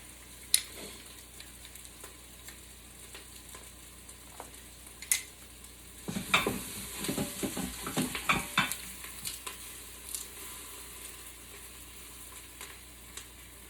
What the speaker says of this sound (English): So let's go ahead and add our garlic.